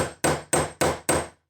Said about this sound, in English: then you can hammer on the nail head